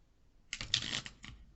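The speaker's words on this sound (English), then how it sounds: "it does seem to pick up the shuffle snaps very, very loud" Tarot cards being shuffled away from the microphone: a brief, soft burst of crisp card snaps and riffling lasting under a second, faint and close, with no voices.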